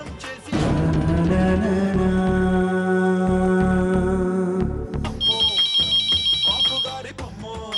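Phone ringtone ringing unanswered, a loud melodic electronic tune that repeats and shifts into a higher beeping pattern, playing alone at close range.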